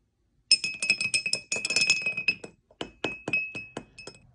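A spoon stirs a whiskey old fashioned with Blanton's and orange bitters in a glass, producing quick bright clinks and rattles in two close bursts with a short pause between.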